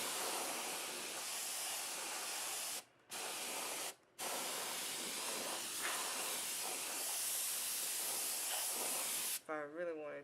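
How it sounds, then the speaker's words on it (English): A compressed air can sprays in one long, loud, steady hiss at close range while cleaning a Dell XPS 15 laptop, broken by two brief pauses and ending in a short burst. "I'm just going to spray down."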